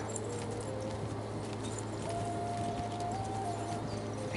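Horse galloping in the video game Kingdom Come Deliverance 2, a steady rhythmic clip-clop of hooves under a continuous low hum of game music, with no voices.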